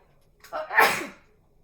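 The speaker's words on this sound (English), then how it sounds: "I'm gonna sneeze." One close, breathy sneeze with a short inhale before it, loud and alone against quiet.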